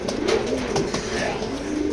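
Stock pigeons of racing lines coo in a loft, soft, low, throaty coos repeating close by over a faint background murmur, with no clear speech.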